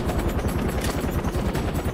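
A helicopter's rotor thumps rapidly and loudly in the video game Far Cry 4, mixed with bursts of what sounds like machine-gun fire.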